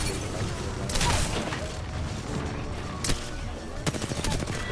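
Machine-gun and rifle fire in an Apex Legends battle royale match, loud rapid bursts with sharp crashes around the one- and three-second marks and a staccato volley near the end.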